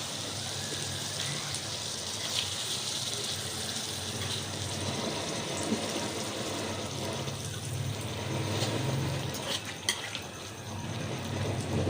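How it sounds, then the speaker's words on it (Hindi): Potatoes and peas frying in a pot for a home-style gravy, with water being added: a steady broadband sizzle and bubbling with faint stirring clatter, close and continuous throughout. "इसमें हम थोड़ा सा पानी ऐड कर देते हैं।"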